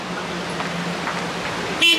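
A car horn honks once in a short, loud blast at the very end, sounding at a pedestrian on a city street over steady traffic noise.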